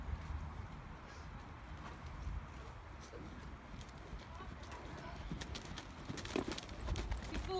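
Horse hooves clip-clopping in a working trot during a dressage test, a steady rhythmic beat of footfalls on an arena surface at moderate distance, with faint bird calls and a voice speaking over it.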